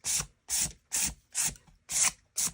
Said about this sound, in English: now I'm going to take a 400 grit sandpaper, which is very fine. And I am lightly going to just go over this